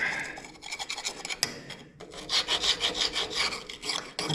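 A gasket scraper rasps across an old gasket on an M670 front end, short repeated scraping strokes at close range, gritty and rhythmic, no voices.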